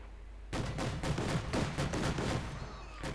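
Heavy gunfire rattles through a Company of Heroes 2 battle, with dense overlapping bursts of shots going on for about three seconds at a low, distant-sounding level.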